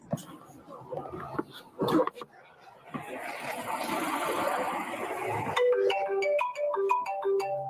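A mobile phone ringtone begins partway through as a bright, repeating melodic tone, rising over noisy background chatter and rustling from people nearby.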